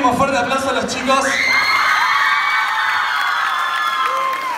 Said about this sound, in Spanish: Un último fuerte aplauso a los chicos.